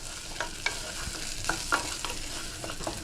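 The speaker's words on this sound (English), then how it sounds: "Give this a nice stir." Tomato paste sauce being stirred in a pan for manicotti, a soft continuous sizzle with scraping strokes of the spoon at a slow, uneven rhythm, close and unaccompanied by talk.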